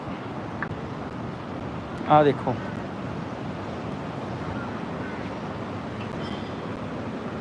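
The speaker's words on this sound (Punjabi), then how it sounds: "ਮੰਦਰ ਦੇ ਵਿੱਚ ਜਗ੍ਹਾ ਬਣੀ ਹੋਈ ਪਾਣੀ ਉੱਬਲਦਾ ਦੇਖੋ ਭਾਫਾਂ ਨਿਕਲਦੀਆਂ ਦੇਖੋ" Boiling hot spring water and rising steam at Manikaran Sahib temple make a steady rushing, bubbling roar throughout, with a person briefly speaking over it.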